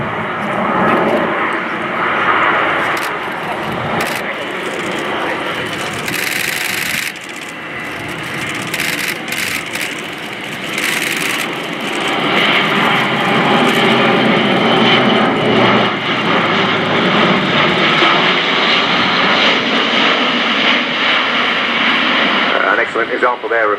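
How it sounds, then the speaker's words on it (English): Airbus A400M Atlas turboprop military transport making a steep 60-degree nose-down approach with propellers in fully fine pitch acting as an air brake at an air show, a loud sustained roaring drone under continuous talk from a commentator. "Excellent example there of a 60 degrees nose down steep approach with propellers in fully fine, which kind of work as an air brake"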